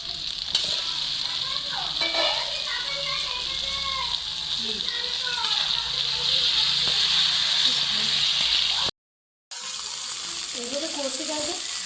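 Chicken frying in a pan of spiced oil, with a continuous close sizzle and occasional stirring scrapes and bubbling. The sound drops out briefly near the end, then the sizzle resumes.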